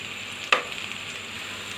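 Tempering seeds, green chillies and curry leaves sizzle in hot oil for an ivy gourd curry, a steady close crackle with a sharp stir or clink midway and another near the end.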